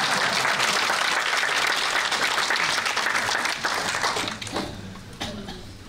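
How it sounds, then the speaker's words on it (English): Audience applause at a business talk, dense and loud at first, then thinning and fading toward the end. "Usually they applause in this way."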